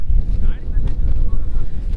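Strong wind on the Kumara Parvatha mountain trek buffets the microphone in loud, low, gusting rumbles throughout.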